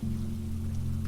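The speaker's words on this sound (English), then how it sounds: "Rain continued to fall across the glass" Steady rain falls across window glass in a broadband hiss, an even, continuous patter at close range with a low hum beneath and no voices.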